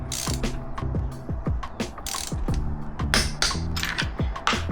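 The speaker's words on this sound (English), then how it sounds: "I like to torque them down, so spec is 18 to 21 feet-pound of torque, so I'm going to do 20." A torque wrench ratchets in steady, closely spaced clicks while tightening spark plugs on a 2024 Yamaha FX Cruiser HO 1.9 watercraft, set to about 20 foot-pounds; the clicking is loud and close, alone, with no talk.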